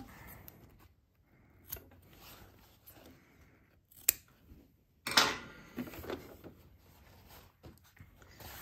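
Scissors snip off excess thread while a sports bag is sewn, several sharp close cuts with light rubbing and handling noise in between.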